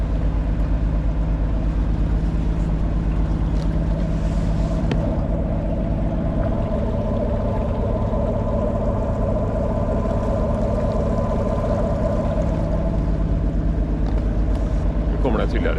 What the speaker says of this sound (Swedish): Jag får ett missljud ifrån motorn.